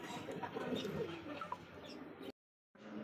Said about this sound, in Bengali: ডাকাডি করছে নর, বামেরটা মাদি